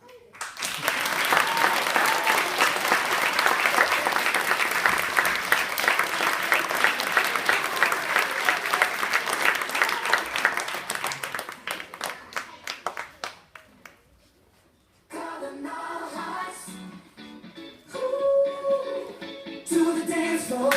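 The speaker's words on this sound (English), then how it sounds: "Please clap your hands for Mrs. Davis." An audience at a 2015 dance show breaks into loud, sustained clapping with crowd noise that fades after about twelve seconds, then music and voices follow.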